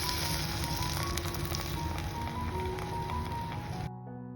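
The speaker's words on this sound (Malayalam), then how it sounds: "ഇനി ഗ്രേവിക്ക് ആവശ്യമായ 1 കപ്പ് ചൂടുവെള്ളമാണ് ഒഴിച്ചു കൊടുക്കുന്നത്" Hot water being poured into a simmering prawn and drumstick curry masala, producing a loud continuous hissing sizzle and rushing splash that cuts off abruptly near the end.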